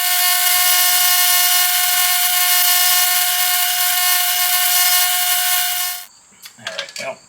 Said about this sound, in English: use that to hold the bolt while you wire wheel it